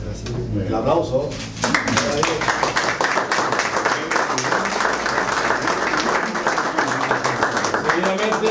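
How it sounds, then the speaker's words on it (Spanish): Audience at the opening of a woodcraft exhibition by a Gáldar folk group claps steadily, a dense burst of applause that starts after a short pause and holds loud and even to the end. "El aplauso."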